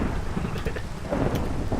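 Low, rolling rumble of thunder under heavy, steady rain, a dense and loud wash of sound with no voices.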